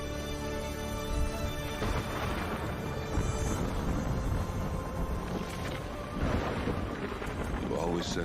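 Thunder of an approaching storm in Horizon Forbidden West, deep rolling rumbles swelling and fading in long waves over constant wind-like noise, with a brief soft voice near the end.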